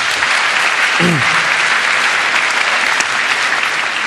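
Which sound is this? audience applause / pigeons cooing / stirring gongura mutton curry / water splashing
audience applause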